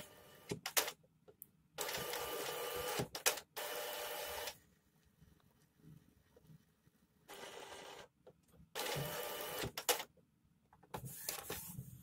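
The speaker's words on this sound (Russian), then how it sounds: "Заработал он у нас." An Epson inkjet printer (P50, T50 or L800 type) powers up after being switched on, with several loud bursts of mechanical whirring and carriage movement broken by short pauses and clicks.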